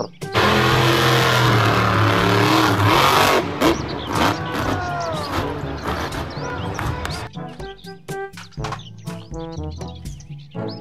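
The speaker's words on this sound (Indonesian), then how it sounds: "mobil truk monster." A loud monster truck engine roars and revs for a few seconds, then winds down into clattering, chirpy mechanical sounds and scattered clicks.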